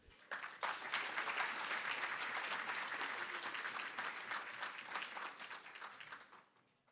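Sustained applause from an audience at a regional cultural diversity awards ceremony, a dense, even wash of clapping that swells quickly, holds steady for several seconds, then tapers off at the end.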